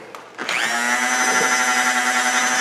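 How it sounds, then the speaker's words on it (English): Dremel rotary tool spinning up after a few clicks and handling knocks, then holding a steady, loud high-pitched whine close by. "hand me that Dremel, will ya?"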